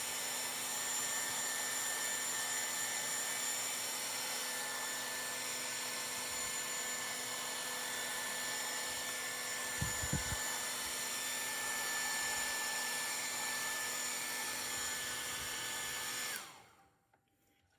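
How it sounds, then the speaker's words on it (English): A hair dryer blows steadily at an evaporating dish in a lab, giving a loud, constant whirring hum with a fixed tone that runs unbroken for about sixteen seconds and then cuts off abruptly, with no talking. "I'm just going to take a hair dryer"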